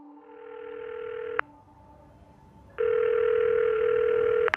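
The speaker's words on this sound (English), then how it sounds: "as he picks up the phone to dial his mother's home number" A landline telephone's steady dial tone sounds loud and close, breaks off briefly after about a second and a half, then returns for the rest of the clip, with no voices.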